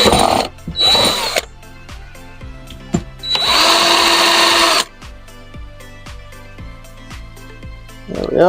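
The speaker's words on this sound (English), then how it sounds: "So we've got the few pilot holes drilled." A power drill drills pilot holes in fiberglass on a boat in loud bursts, two short ones, then a longer whine of over a second, with brief quiet gaps between.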